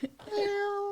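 A pet cat gives a single short, close meow that rises and holds for under a second, loud and clear with no other sound around it.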